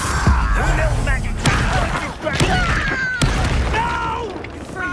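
Confringo spell blasts in the Hogwarts Legacy video game: several booming thumps and pops spaced through a busy fight, with whooshing magical effects and game voices mixed in.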